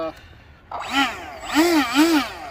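An old five-blade electric ducted fan on a model jet whines up and down in wavering, rising and falling pitches, fairly loud and close, sounding like a revving power tool.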